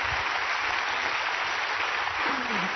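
A studio audience applauds steadily at an Italian satirical press-review show, dense continuous clapping throughout with a faint voice just audible beneath it.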